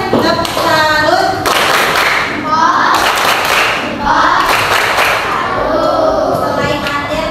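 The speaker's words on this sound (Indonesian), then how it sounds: "Kasih tepuk salut buat Adel." Students in an Indonesian classroom clap a rhythmic group cheer, with sharp, loud claps and taps alternating with children's voices chanting along throughout.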